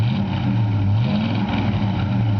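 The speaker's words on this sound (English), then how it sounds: "You can hear the cam rumble just a little." A 1963 Ford Galaxie 500 V8 with a mild cam runs close by, a loud, steady low engine rumble whose slight lope rises and falls over a couple of seconds.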